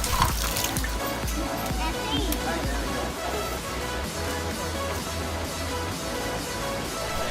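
Water trickles and splashes at a temple hand-washing basin in Kamakura, continuous and fairly close, with scattered clatter and a murmur of voices in the background.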